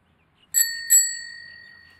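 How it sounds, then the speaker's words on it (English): Two bright dings of a small bicycle-style bell struck a moment apart, each ringing out clear and close before a long, slowly fading tone in a quiet room. "Happy dinging bell."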